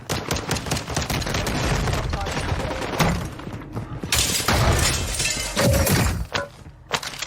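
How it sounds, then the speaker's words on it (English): A glass skylight shatters in a war-zone video game as a character smashes through from a rooftop, a loud crashing burst with scattered tinkling shards amid dense gunfire-like clatter. "lands on an empty rooftop and smashes through a skylight"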